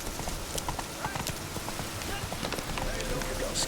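Roach the horse gallops in The Witcher 3, her hooves clip-clopping in a quick, continuous rhythm over a steady outdoor game ambience.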